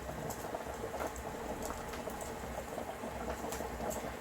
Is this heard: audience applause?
no